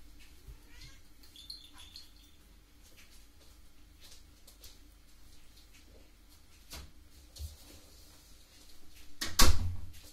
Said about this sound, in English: I wanna get this cat out.